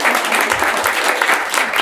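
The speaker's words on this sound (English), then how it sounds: "We love clapping here." Audience at a Tucson author talk claps steadily and loudly for the whole stretch, a dense continuous wash of hands with no pauses.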